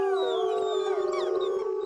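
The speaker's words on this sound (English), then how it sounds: "Let's end with a howl." A timber wolf lets out a single sustained howl, a smooth steady pitch that holds for about two seconds, clear and fairly close, with faint wavering tones behind it.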